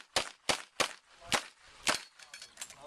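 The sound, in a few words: revolver gunshots at a Cajun action shooting match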